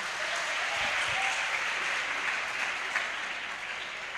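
Audience applause at a public talk event fills the space as a dense, steady wash of clapping, loud and continuous from start to finish with no one speaking over it.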